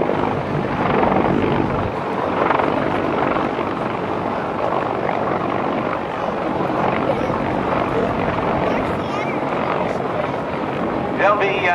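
An MH-53 helicopter's heavy, continuous rotor roar fills the air overhead at an airshow, steady throughout, with voices faintly mixed in.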